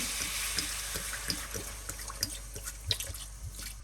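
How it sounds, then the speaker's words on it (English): Red wine poured into a pot of browning meat for Greek stifado, giving a steady wet sizzle and hiss with small crackles and pops throughout, close and fairly loud. "Once meat is ready, I'm going to add red wine"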